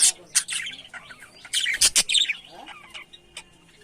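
Pet budgerigars, java sparrows and cockatiels chirp together in a crowded aviary on a bird farm, a dense, loud and close chatter of overlapping tweets and sharp squawks.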